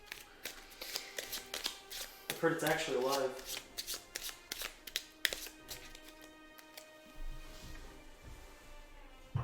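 Playing cards being shuffled during a tabletop card game, producing a rapid series of riffling flutters and taps. Casual conversation continues over and around the shuffling.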